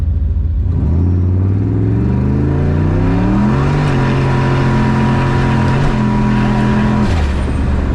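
A turbocharged Foxbody Mustang sleeper accelerates hard from a roll, its engine note climbing through successive gears with loud, steady rising harmonics heard from inside the car.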